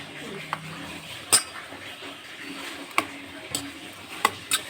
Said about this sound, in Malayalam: ഒരു സ്പൂൺ കൊണ്ട് ഇതൊന്ന് നല്ലപോലെ മിക്സ് ചെയ്തെടുക്കാം